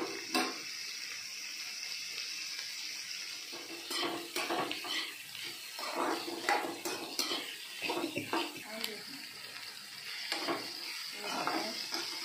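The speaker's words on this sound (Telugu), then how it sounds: "బాగా వేగాలి ఫ్రెండ్స్. ఇవి బాగా వేగినాక ఈ డబ్బులు వేయాలా" Bitter gourd and potato fry in a pan at home with a faint, low sizzle, broken by repeated scraping and clinking stirs of a utensil against the pan.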